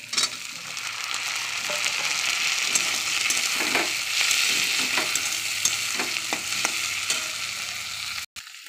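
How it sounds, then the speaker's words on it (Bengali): Chopped tomato goes into a pan of fried onions for a mustard-onion fish curry, giving a steady loud sizzle with repeated scraping stirs throughout and a brief cut near the end; no voices. "এবার আমি টমেটোটা দিয়ে দেবো।"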